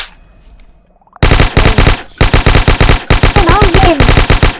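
Rapid automatic gunfire from a Minecraft game rattles in dense, loud bursts after a quiet start, with a brief pause between volleys.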